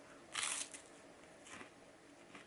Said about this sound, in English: It's just a chocolate wafer, but it's weirdly crunchy and hard.